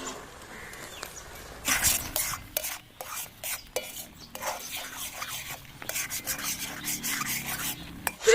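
A spoon stirs cow's first milk and ghee in a pot, giving scraping, rubbing strokes in uneven bursts, close and fairly loud, with no talking.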